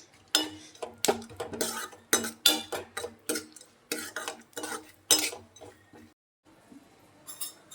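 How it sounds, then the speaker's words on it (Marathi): Dry fruits are stirred while frying in ghee in a pan, a close run of rhythmic metallic spoon-on-pan clinks and scrapes, about two per second, pausing briefly near the end before resuming. "एक ते 2 मिनिटासाठी आपल्याला परतून घ्यायचं आहे."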